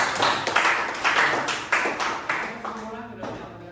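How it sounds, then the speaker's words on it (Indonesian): A small classroom audience claps in a loose, uneven burst of separate hand claps that thin out and fade over a few seconds, with a voice faintly underneath. "Ya, tepuk tangan untuk isinya."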